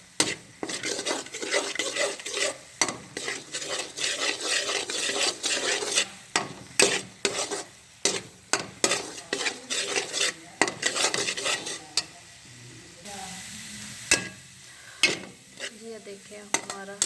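Besan and egg halwa is cooked in ghee in a pan, a spoon scraping and stirring in rapid irregular strokes with faint sizzling underneath, close and continuous for several seconds, with brief pauses between bursts and no speech.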